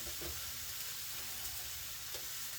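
Ham warms in a hot pan with a steady, close sizzle and crackle of frying that holds evenly throughout without any talking.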